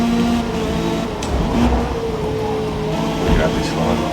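A Mazda MX-5 engine in the Forza Motorsport video game, droning steadily under load with a sustained rising tone while someone talks continuously over it.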